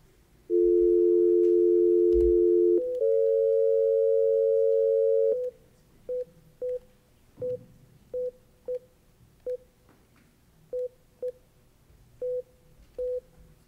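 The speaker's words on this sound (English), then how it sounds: "I will try you again with this VoIP phone." VoIP desk phone placing a call, with a loud steady dial tone shifting pitch partway, then a series of about a dozen short, evenly spaced DTMF key beeps, clear and close with no talking.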